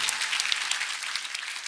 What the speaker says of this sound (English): Children of God, made the clapping wonderful.